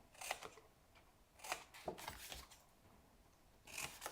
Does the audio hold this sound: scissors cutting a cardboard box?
yes